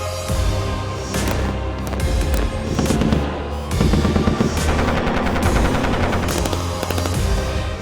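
Simulated gunfire in a tactical training exercise, a dense, loud, continuous rattle of rapid shots and bangs with no pauses.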